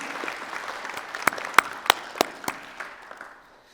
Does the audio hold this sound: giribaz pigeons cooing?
no